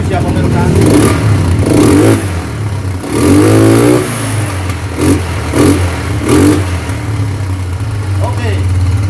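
An ATV Commander 200cc engine with stock exhaust idles close by and revs in repeated short bursts. A voice talks between and over the revs.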